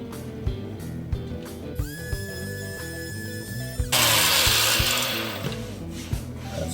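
A power sander works over the body of a DIY bass guitar, whirring and buzzing in short passes with knocks of the tool and wood. A louder, harsher grinding stretch comes near the end.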